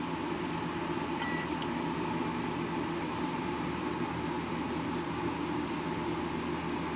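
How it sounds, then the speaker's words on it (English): A microwave oven runs on a Honda EU3200i generator alongside an air conditioner, a steady even hum and whir with a brief beep early on and no talk. "Let's try the microwave at the same time."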